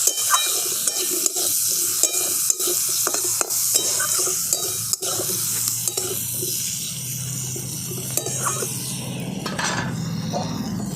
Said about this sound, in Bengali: এরপর আলুটাকে আমি ভাজা ভাজা করে নেব।